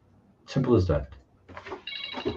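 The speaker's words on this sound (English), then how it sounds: "No, that's a phone call." A phone rings with an incoming call, a bright tonal ring entering near the end just after someone speaks briefly.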